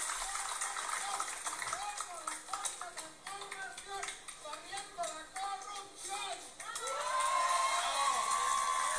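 A large crowd of Morena party supporters cheers and applauds in a dense, continuous roar, with whistles and shouts rising over it and swelling louder near the end, in Puerto Vallarta.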